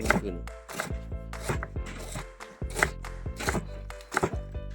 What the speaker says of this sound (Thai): มาก็ซอยครับซอยตะไคร่ครับ ซอยตะไคร่